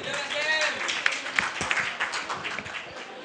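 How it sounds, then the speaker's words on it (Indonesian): Soft, fairly distant audience applause for Pak Dwi Larso of SBM ITB at a talk, a steady patter of clapping with voices mixed in. "Tepuk tangan juga untuk Pak Dwi Larso dari SBM ITB."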